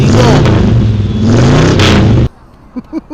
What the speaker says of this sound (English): let's rev it up for the car show